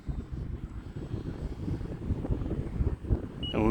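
An E-flite Valiant 1.3m RC airplane flies outdoors in strong wind, its steady motor drone rising and falling under heavy, buffeting wind rumble on the microphone.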